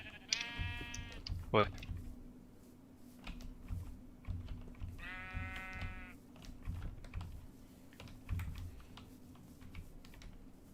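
Sheep bleat twice in a Minecraft UHC match, short nasal, quavering calls, one near the start and one mid-clip. They sit under a player's talk and rapid keyboard typing.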